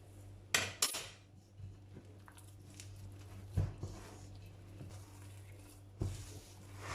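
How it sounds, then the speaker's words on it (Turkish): A spoon stirs a kaymakpare dessert mixture in a pot, giving a few sharp metallic clinks and soft scraping taps spread out over several quiet seconds. "Şimdi yavaş yavaş karıştırmaya başlayalım artık."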